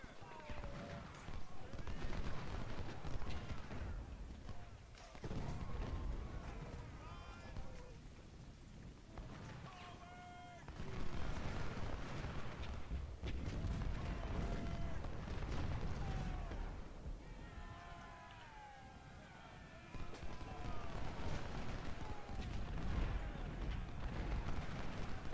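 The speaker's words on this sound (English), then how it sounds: "artillery again." Artillery fire in the Civil War game Cedar Mountain, CSA Legendary: repeated heavy booms and muffled blasts over a continuous battle din, with someone talking intermittently over it.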